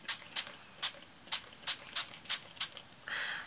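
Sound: spraying

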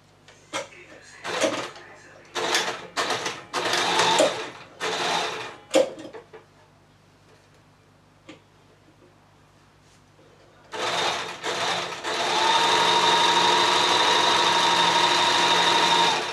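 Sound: sewing machine stitching a tutu skirt

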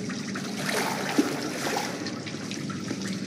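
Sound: flowing river of blood in the video game Outlast

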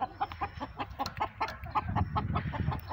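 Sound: Kadaknath black chicken clucking

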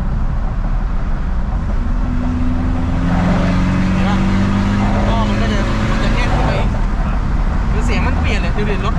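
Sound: tuned 2.2 engine car driving in third gear, mode 2

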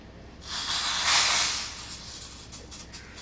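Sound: tempering spices sizzling in hot oil

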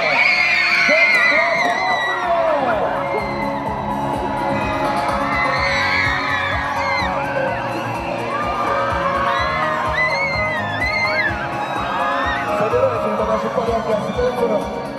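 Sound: audience ovation and cheering at a dance award ceremony

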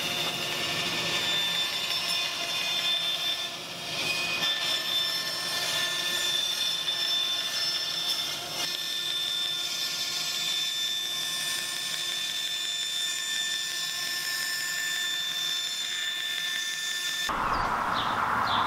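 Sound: bandsaw cutting wood for camp chair parts

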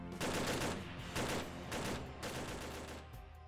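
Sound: L7A2 GPMG machine gun firing in video game Arma 3

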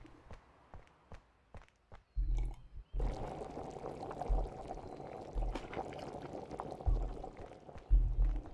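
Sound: pouring a cup of tea, video game Car Dealership Simulator

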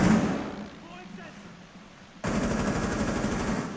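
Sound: gunfire in Rainbow Six Siege video game

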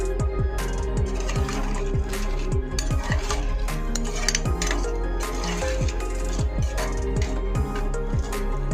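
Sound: stirring and mixing a vegetable curry in a pot

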